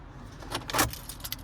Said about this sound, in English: here's the key fob